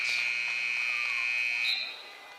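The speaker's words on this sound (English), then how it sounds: "Buzzer for the third period ends" A high school boys basketball game buzzer sounds a long, loud, steady electronic tone ending the third period, cutting off near the end amid gym noise.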